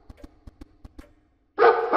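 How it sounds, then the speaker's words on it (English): A dog in a Roblox video game barks in a quick series of six short, evenly spaced yips, fairly soft. A louder burst of other game noise cuts in right after. "I have a pet now. Dog, dog. Nice."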